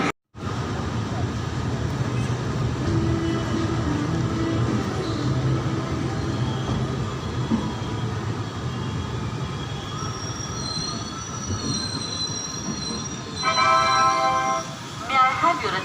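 A train at Banaras Junction station rumbles loudly and continuously, with metallic wheel squeals and clatter building toward the end, close by and dense with station noise.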